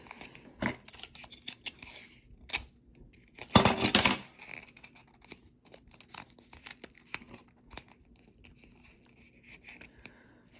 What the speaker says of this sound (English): And then I'm going to tape it down.